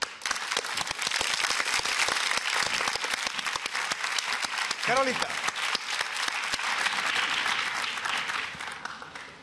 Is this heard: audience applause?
yes